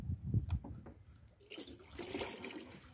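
Water is poured into a kettle at an outdoor holiday camp on the coast, a steady splashing gush that starts after a brief burst of speech and goes on until the end.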